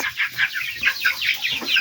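Broiler chickens on a poultry farm cluck in a busy, overlapping chorus, many short calls repeating in quick succession at close range with no talking.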